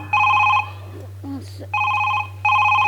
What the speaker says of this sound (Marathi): हिचा फोन वाजतोय